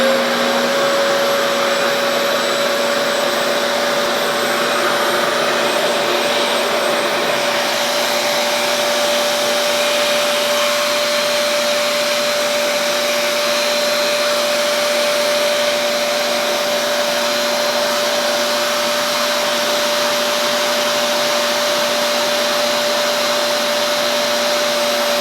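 Loud, steady whine and rush of a Revair suction hair dryer running on level 5, holding one high pitched tone without a break for the whole stretch, close up and with no talk.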